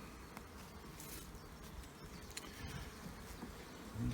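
Honeybees swarming in an opened spring hive box, a faint continuous buzzing hum close by, with light rustles and small knocks near the end and no talk.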